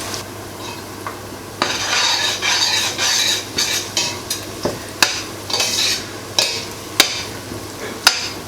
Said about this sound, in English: make sure you stir your onions from time to time so that all of them are